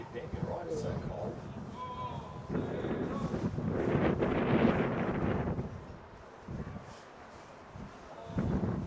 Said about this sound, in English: You feel the wind already, Ben.